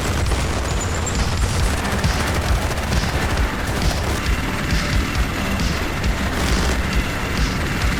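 Sustained battle gunfire in the Armored Brigade II war game, dense overlapping shots and booming explosions rolling continuously at a steady loud level with no pauses.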